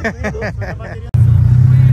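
A turbo car holding on a two-step launch control, then pulling away and accelerating into second gear. A loud, steady engine drone cuts in abruptly after about a second of talking and carries on strong.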